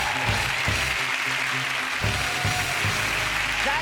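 A television chat show studio audience applauds under music, a moderately loud wash of clapping that carries steadily across a few seconds.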